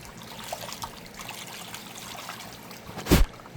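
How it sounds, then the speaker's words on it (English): Water trickles into a creek, flowing back toward a pond, as a soft, steady dribble with a brief louder splash or gush near the end, heard close up without talk. "Let her flow on down the creek, back into the pond"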